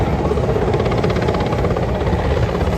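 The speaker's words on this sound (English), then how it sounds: "flying past now is the Mi-17 helicopter of the Ghana Air Force" Ghana Air Force Mi-17 helicopter flying past at an Independence Day celebration parade in Adweso, Akuapem, its loud rotor thudding and turbine roar holding strong and close for the whole stretch.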